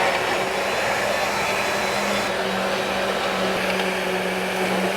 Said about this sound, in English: take this here immersion blender, and we're gonna stick it right in and chop up all the pork